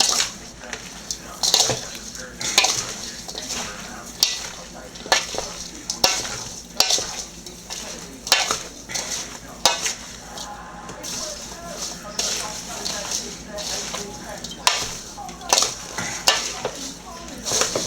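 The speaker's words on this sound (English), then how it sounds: "once we have it all salty, we give it a good mix, just so the salt is touching everything" Salted chopped green tomatoes and onions being mixed for Nova Scotia chow, with repeated moist scraping and tossing strokes, close and fairly loud, in an uneven rhythm throughout.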